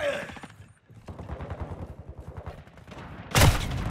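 A loud single sniper rifle shot rings out near the end of a Call of Duty Modern Warfare II multiplayer match, following a stretch of game noise and rapid footsteps or gunfire clatter, with faint background voices.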